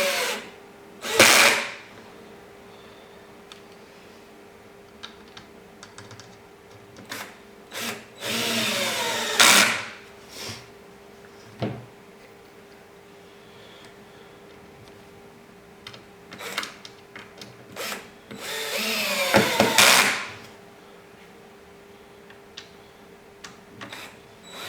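Power drill driving screws into a Shuttle Buddy Pro ice shuttle for a Humminbird Helix, several loud close whirring bursts of one to a few seconds separated by quieter handling clicks.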